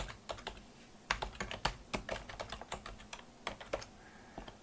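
Typing a folder name on a computer keyboard: a quick, close run of crisp key clicks in uneven bursts, with no talking.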